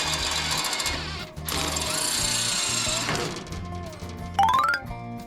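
A power drill bores a hole through a weld on a repaired Cadillac bumper, loud and close, grinding in steady bursts with brief pauses, ending in a rising whine as the bit breaks through.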